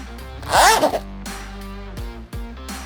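A zipper slides once on the outside hand pocket of a men's leather motorcycle vest, a quick close rasp near the start followed by quieter handling sounds, with no voices.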